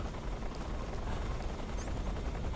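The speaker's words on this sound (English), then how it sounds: "But I would get down to the helicopter." Helicopter in the Metal Gear Solid video game, a steady broadband rotor drone that holds at close range for the whole stretch, with a brief high whistle near the end.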